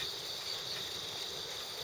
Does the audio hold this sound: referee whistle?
no